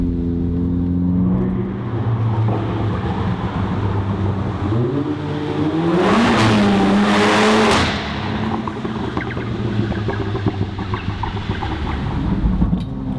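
Car fitted with a Guerrilla exhaust revving loudly, a sustained deep exhaust drone that climbs in pitch as the engine is pushed hard in the middle, then settles back into a heavy burbling note, close and without talk.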